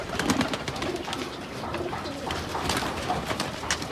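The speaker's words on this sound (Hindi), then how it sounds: "एक जाफरानी कबूतर का शो करा देते हैं जो हमारे छत पे उड़ा हुआ कबूतर है" Soft, throaty coos of a saffron pigeon repeat in low rolling phrases, close by, with faint rustling around them.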